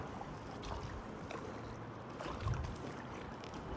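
Soft water sloshing and trickling from a kayak paddling downstream on the River Thames toward Kew Bridge, gentle and continuous with a slightly stronger splash near the end, no talking.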